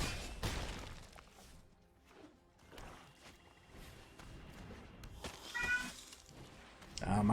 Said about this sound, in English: My cat is going crazy back there.